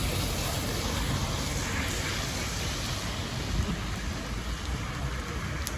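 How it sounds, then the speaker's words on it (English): Heavy rain pours down on a stormy day in Alcudia, Mallorca, a dense, steady roar of drops hitting surfaces with no voices. "it's really starting to rain quite heavy now"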